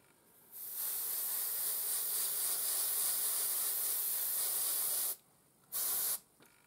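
Paint sprays out under pressure for hazard stripes, a loud steady hiss lasting several seconds, then a short second burst after a brief pause.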